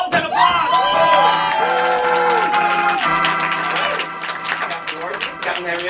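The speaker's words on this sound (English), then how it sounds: "Level 10 applause!" An audience at a live minor league show applauds and cheers loudly, with shouts and whoops rising over strong tonal sound that may be music or voices, the noise holding steady, then easing slightly toward the end.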